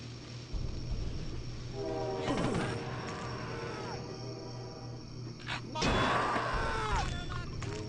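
A train arrives in the video game Blood with a loud horn blast over a rumbling, clattering rail noise. Two harsh crashing bursts come at about two and a half and six seconds.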